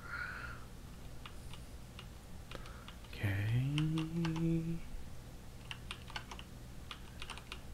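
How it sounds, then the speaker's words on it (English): Computer keyboard typing during a PowerWash Simulator session: scattered quick key clicks, close and fairly quiet, with a brief chirping or whistling sound midway and no talk. "I know you guys can hear my fingers on the keyboard right now"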